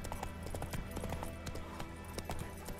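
Horse hooves clip-clop at a steady, close rhythm while a rider travels in The Witcher 3: Wild Hunt, with regular sharp strikes over a continuous game ambience.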